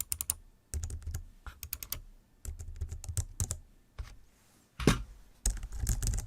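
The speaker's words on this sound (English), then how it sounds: "test of the MX Keys for key sound." Someone types on a Logitech MX Keys keyboard at close range, with quick bursts of keystroke clicks broken by short pauses and no talking.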